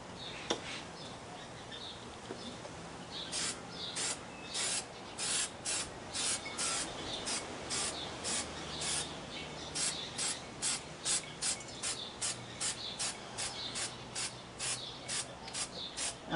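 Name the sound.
spray painting a 3D dinosaur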